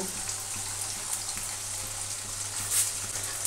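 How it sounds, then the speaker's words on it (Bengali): Potatoes fry in a pan in a home kitchen with a constant, fairly loud sizzle and faint clinks and watery spatter throughout, no voices. "আলুটা ভাজা হোক"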